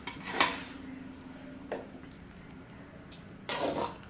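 Spoon stirring mushroom masala curry in a pot, with three separate scraping clinks against the metal spread across a few seconds and quieter wet shuffling between them.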